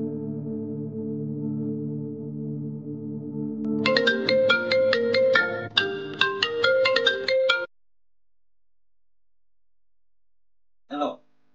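A phone tone plays for an outgoing call, beginning with a steady sustained buzz and then changing to a rapid bright melodic ringtone pattern. It cuts off into silence, followed by a brief later sound.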